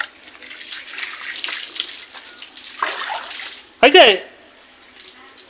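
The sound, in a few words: water being poured over someone's head while bathing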